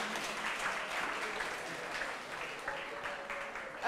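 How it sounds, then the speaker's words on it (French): An audience claps for an award recipient at a morning prize ceremony, a soft, even patter of applause that holds steady at a modest distance. "On applaudit très fort pour Merveille."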